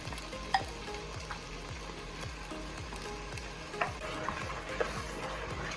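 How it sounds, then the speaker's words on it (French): A spoon stirs pistachio paste into a spinach sauce simmering in a pot, giving a soft, steady sizzle and bubbling with faint regular scraping strokes and a few small clinks. "Arrivé à ce niveau, je vais incorporer la pâte de pistache."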